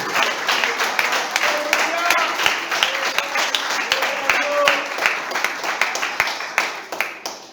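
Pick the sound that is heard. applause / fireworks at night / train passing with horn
applause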